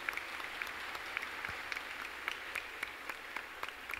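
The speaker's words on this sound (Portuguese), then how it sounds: "Uma salva de palmas às famílias que acolhem." A crowd at a church festival night applauds for host families, a steady wash of clapping from many hands, fairly distant and even throughout.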